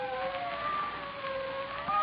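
Police sirens wail in a radio drama, a steady rising-and-falling tone carrying across the whole stretch, fairly distant but clear, with no one speaking over it.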